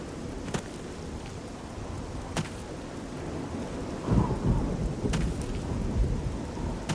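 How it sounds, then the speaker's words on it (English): Steady rain falls throughout, with several sharp thunder cracks and a deeper rolling rumble toward the end. No one speaks. "Rainy day. In both worlds that I'm in. Raining at my house."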